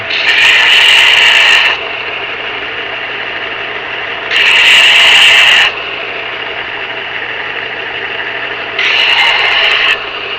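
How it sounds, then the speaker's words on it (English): Burrs get sanded off a metal part in three loud, close bursts of harsh abrasive rubbing, each a few seconds long, separated by a steady lower background hum. "Maybe I'll sand off the burrs."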